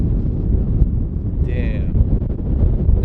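Strong, cold wind on a mountaintop roaring and gusting against the microphone, a dense low rumble with a brief tonal whine partway through.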